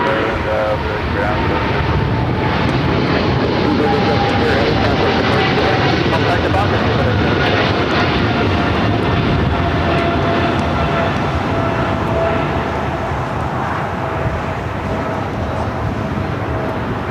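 Speedbird airliner rolling down runway 25 right at LAX, a steady broadband jet roar heard at a distance that holds constant throughout without breaks.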